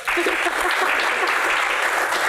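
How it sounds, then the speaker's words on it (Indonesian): Audience applause during a Q&A session: a short burst of dense, bright clapping from a crowd, loud and continuous from start to finish. "tepuk tangan dong"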